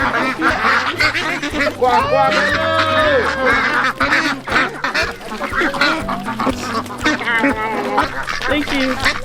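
Ducks quack loudly while being fed with thrown food in a town in Phong Nha, central Vietnam, repeated calls mixed with a steady background bed and voices of people talking and calling out over them.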